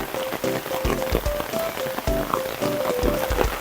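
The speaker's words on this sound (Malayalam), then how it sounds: "ഇത് ഈ മഴ വന്നത് ഭയങ്കര കഷ്ടമായി പോയി ഗൈസ്" Rain in Singapore patters steadily on a surface close by, a dense scatter of drops with a few brief tonal sounds mixed in, and no one speaks.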